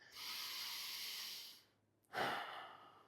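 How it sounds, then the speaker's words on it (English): A person takes a quick breath: a long, soft, airy inhale, a brief pause, then a sharper exhale, close and quiet with no talking. "So just take a quick breath."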